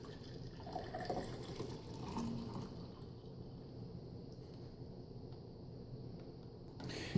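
Water poured steadily into a First Strike Ration dairy shake pouch, a soft continuous trickle and splash that carries on for several seconds, close by and fairly quiet, with a small clatter at the very end.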